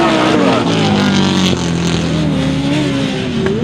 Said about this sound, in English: And the Winterburns are coming in very fast into that corner.